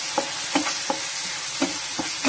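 Veg noodles tossed with chilli sauce and soy sauce in a pan, giving a steady run of regular stirring scrapes about every third of a second over a soft sizzle, close and moderately loud with no talking.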